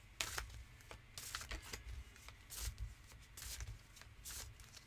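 Tarot cards are shuffled in quick repeated riffling bursts, soft and close, with short pauses between each pass.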